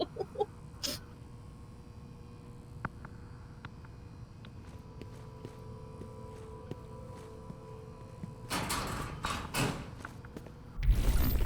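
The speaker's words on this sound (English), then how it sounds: "what is the sound of lockers slamming behind me?" Metal lockers slam and clatter in the stealth video game Republique, a few sharp knocks early, then heavier banging bursts toward the end over a steady hum.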